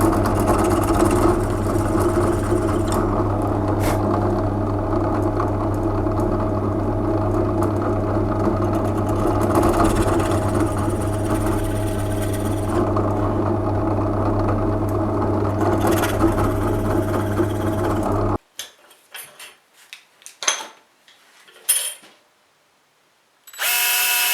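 A power drill with an 8.5mm bit runs steadily and loudly for about eighteen seconds, opening out the tuner holes in a guitar headstock. It then cuts off, leaving a few short clunks and rattles.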